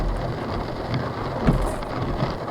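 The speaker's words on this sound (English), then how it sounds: "We just got slammed with a bunch of hail" Hail pelting down during a storm, a dense steady roar of pattering impacts with a few sharper hits, close and continuous without a break.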